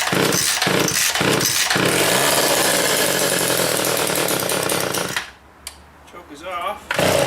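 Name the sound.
small arborist chainsaw starting and running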